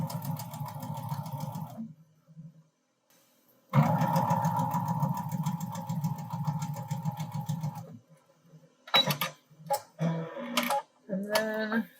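A sewing machine stitches quilt fabric in two steady runs of fast mechanical whirring separated by a pause, then gives way to light clicks and brief handling noises.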